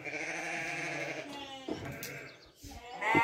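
A ewe with her first lamb bleats in a long, wavering call up close, followed by shorter, fainter bleats and rustling on a farm.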